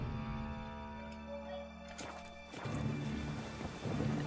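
A dark, rainy day in the video game The Witcher 3: Wild Hunt. Soft rainfall hisses quietly, then a couple of sharp bursts hit and the rain settles into a fuller, steady patter.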